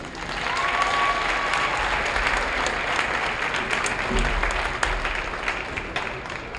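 A gym crowd at a high school basketball game applauds the seniors on senior night, loud sustained clapping from many hands with faint cheering mixed in.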